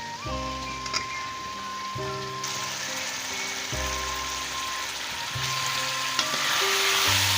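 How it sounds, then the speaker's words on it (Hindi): Mutton liver (kaleji) fries and roasts in a pan with a steady, loud sizzle under background music tones. "बुनाई हो रही है कलेजी की"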